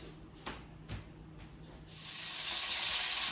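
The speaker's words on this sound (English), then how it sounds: "I've just been gently frying off these bits of chicken" A soft, steady sizzle of chicken pieces frying in a pan, building into a broad hiss after a few faint scraping taps; no voices.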